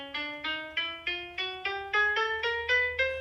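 A piano plays all twelve notes of the chromatic scale one after another, each key struck singly in an even, rising sequence, close and clear with no voices.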